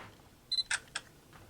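A Sony ZV-1 II compact camera takes a photo at a 1/4 second shutter speed. A short electronic beep comes first, then two crisp shutter clicks about a quarter second apart, close and fairly quiet in an otherwise still room.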